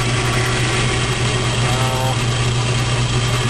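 A Logan lathe motor runs at a lower speed with a steady, constant hum and a faint whine, close and unbroken, with no speech.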